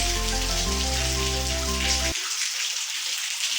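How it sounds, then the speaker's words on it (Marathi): Heavy monsoon rain in Maharashtra hisses steadily and loudly, with a few sustained musical notes playing over it for the first two seconds. "पावसाच्या सरी जोरात येत बघू शकता"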